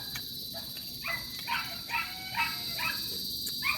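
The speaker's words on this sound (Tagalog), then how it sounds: "Paingay na aso." Repeated dog barks and yips at a moderate distance, recurring every half second or so over a steady hiss of background noise.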